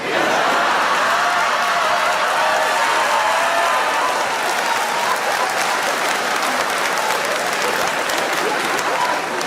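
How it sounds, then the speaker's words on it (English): A stand-up comedy crowd claps and cheers in a dense, loud, continuous wall of applause that holds steady for several seconds with no break. "even though you're clapping and you're cheering"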